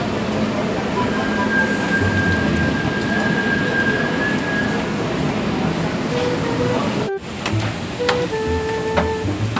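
Dubai Metro Red Line train interior near an interchange station: a moderate steady rolling hum with a faint tonal whine, then a brief dropout followed by softer onboard sounds and chime-like tones.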